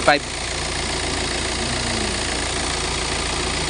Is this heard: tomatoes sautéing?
no